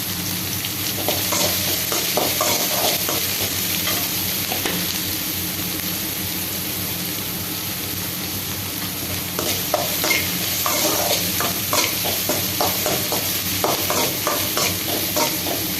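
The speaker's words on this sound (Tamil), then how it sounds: "நம்ம அதோட இந்த கோஸும் கொஞ்சம் போட்டு எல்லாத்தையுமே போட்டு வதக்கிக்கலாம்." Cabbage and green gram being sautéed and stirred in a pan for sundal, a steady loud sizzle with repeated scraping stirs throughout and no talking.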